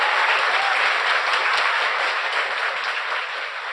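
Steady audience applause in a live talk-show studio, a dense wash of many hands clapping close and loud, gradually easing off near the end.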